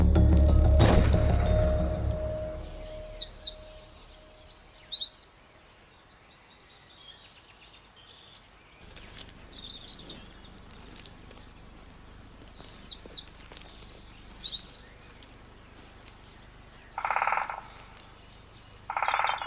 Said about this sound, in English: It is a great spotted woodpecker.